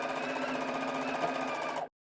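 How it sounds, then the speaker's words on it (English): Sewing machine top stitching a single row across a folded, overlocked pocket edge, running in a fast, even mechanical whir for almost two seconds before stopping abruptly. "I just need to sew this now"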